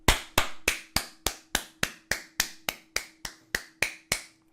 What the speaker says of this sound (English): Claps. Claps all around.